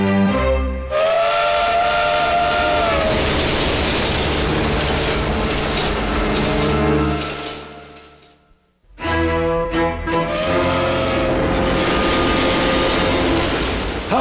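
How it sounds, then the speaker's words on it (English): A rushing train in an animated children's show sounds a long, loud steam whistle over steady rumbling wheels, then the whistle fades briefly before a second sustained blast returns over the rolling clatter. "There's nothing like the rhythmic rocking of a rocketing train to induce a good night's sleep."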